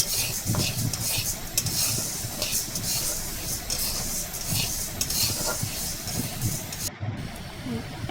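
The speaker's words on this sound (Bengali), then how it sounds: "চুলায় কড়াই বসিয়ে মুগ ডাল ভেজে নিচ্ছি" Mung dal is dry-roasted in a wok on the stove, the lentils hissing and rattling continuously under steady scraping strokes of a spoon, close and busy throughout.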